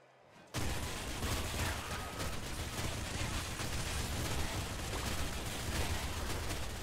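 A split blade gun in the Nuclear Throne Ultra Mod opens fire abruptly after a quiet moment and keeps up a dense, loud, continuous barrage of shots and impacts until the end.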